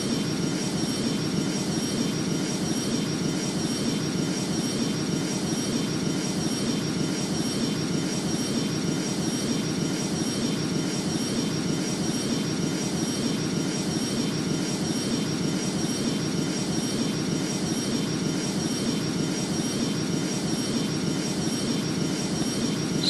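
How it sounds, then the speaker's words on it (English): Airliner engines in the flight game Rortos Extreme Landings give a steady, loud, unbroken drone with a high whine riding on top, holding even throughout with no voices. "engines seem to be fine. They're not overheating,"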